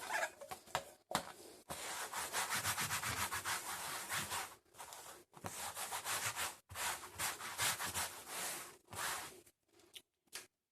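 A microfiber towel wipes across the surface of a cymbal being prepped for clear coat, giving steady close rubbing strokes in repeated bursts separated by brief pauses.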